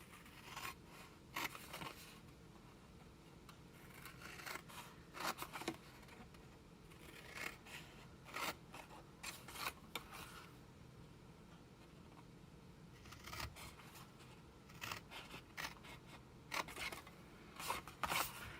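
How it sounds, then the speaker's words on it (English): Scissors snipping through cardstock along scored fold lines while building a paper gift box, a steady run of close, crisp cutting strokes in short bursts with brief pauses between them, no voices. "now I'm going to cut up on all of my score lines here."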